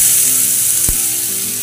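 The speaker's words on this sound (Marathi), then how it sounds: "तूप टाकल्यानंतर गाजर थोडा वेळ छान चाळून घेऊ" Grated carrots fry in hot ghee in a kadai for gajar halwa, giving a constant bright sizzle with one short sharp tap partway through and no voices.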